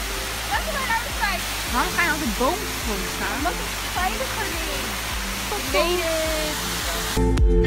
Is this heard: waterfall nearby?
yes